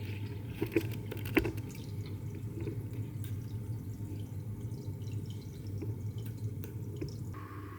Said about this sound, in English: Now I'm gonna add this filter to the side so that the water cycles out